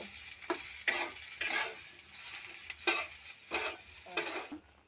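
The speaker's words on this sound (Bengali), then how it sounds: "সয়াবিনটাকে দু মিনিট ধরে মতন ভেজে নেব" Soybean chunks fry in a pan, the sizzle rising in repeated bursts as a utensil stirs and scrapes them every half second or so, close and loud, then cutting off abruptly near the end.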